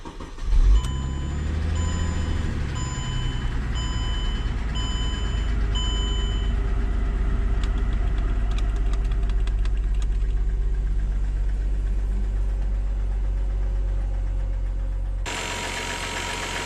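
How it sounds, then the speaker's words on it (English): A Mercedes car engine idles steadily with a low rumble and a persistent rhythmic knocking from an engine fault, plus faint intermittent beeps early on. "As you can hear, the engine is knocking,"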